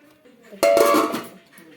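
A lid goes onto a pot of idli batter with a single close, ringing metallic clank that fades over about half a second, with faint room sound before and after.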